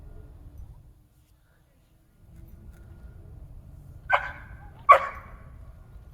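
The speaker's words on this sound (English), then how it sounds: "right there you can hear him bark, vocalizing" A dog gives two sharp, separate barks close by, about a second apart, over a low background rumble.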